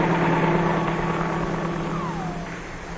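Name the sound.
helicopter flying, 1953 film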